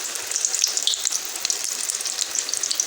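Small pakoras frying in hot oil for Punjabi kadhi, a steady dense sizzle with crackling bubbles throughout, close and fairly loud, no talking.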